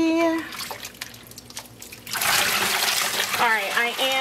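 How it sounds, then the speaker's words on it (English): Water running into a dye basin after soapy water has been added, a steady rushing pour that rises partway through, with a person talking over it. "And we'll fill the basin back up."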